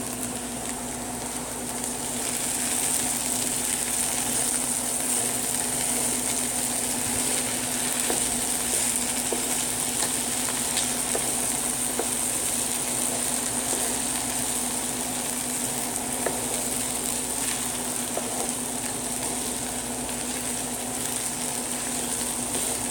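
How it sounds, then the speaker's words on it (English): Onions sauteing in hot oil for an Indian ladyfinger dish give a steady, even sizzle with a faint underlying hum, continuous and fairly close with no talking. "this is what we add initially to saute the onions in"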